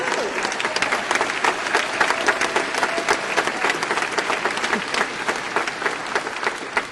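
Sustained applause from a large theater audience at a speech, dense and steady clapping filling the whole stretch at an even, loud level.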